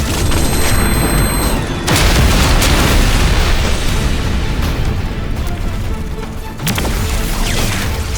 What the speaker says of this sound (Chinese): 使用高爆手雷。